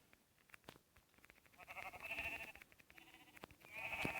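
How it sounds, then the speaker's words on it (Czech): Sheep bleating in the Minecraft video game, several rising bleats repeating over light clicking gameplay sounds. "Tady mám další ovci."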